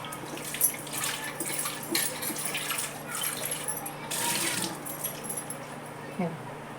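A freshly scrubbed pressure cooker rinsed with water: running, splashing water against metal with occasional clinks and knocks of the pot, heard close.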